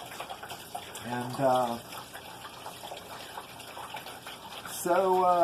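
Quiet trickling of water flowing into an empty ebb and flow hydroponic tank runs beneath two short bursts of talk, faint and steady throughout.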